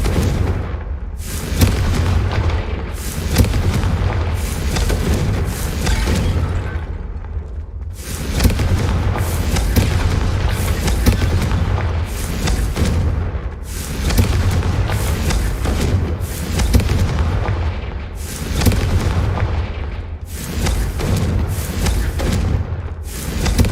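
Blasting Confringo spell in Hogwarts Legacy, a long run of loud booming explosions that come in rapid repeated bursts with brief gaps between them.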